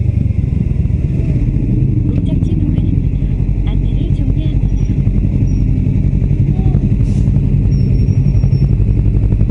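Steady, close rumble of many motorcycle and car engines on a busy street in Daegu's motorcycle alley on Bukseong-ro, continuous throughout, with faint voices mixed into the traffic.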